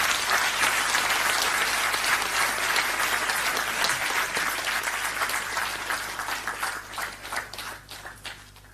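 A large audience at an award ceremony gives a sustained round of applause, loud and dense at first, then thinning into scattered individual claps as it tapers off.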